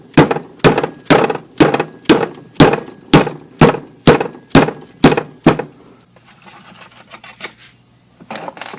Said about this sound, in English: Might need a little bit of tapping.